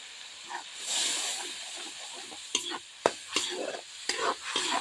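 Spice paste frying in oil for a tangy rohu fish curry, a hissing sizzle that swells, then repeated sharp spatula scrapes as the paste is stirred close up.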